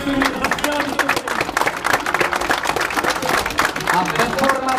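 Audience clapping steadily to welcome performers at the Havířov v květech 2018 town festival, a dense, continuous patter of many hands with crowd noise and an announcer's voice mixed in.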